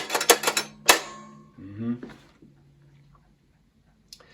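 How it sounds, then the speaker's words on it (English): A toy cash register is worked by hand: a quick burst of loud mechanical key clacks and a sharp ring, then a whirring drawer-like rattle and a few faint clicks fading into quiet. "Someone is going to have fun with this cash register."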